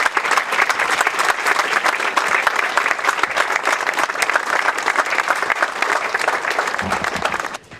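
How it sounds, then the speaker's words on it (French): Sustained audience applause for schoolchildren after they sing the Marseillaise at a school ceremony in Le Raincy, steady dense clapping from a crowd for several seconds before fading. "Je pense qu'on peut les applaudir."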